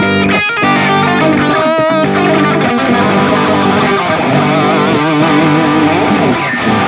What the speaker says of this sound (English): the next one is the angry Spanish scale, and it's called the phrygian